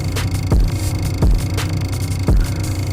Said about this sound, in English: kind of like that token Necrotrap 808 sound